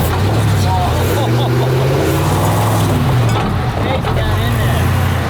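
A diesel truck engine roars steadily while spinning donuts, loud and close throughout with rising and falling revs, with people talking over it.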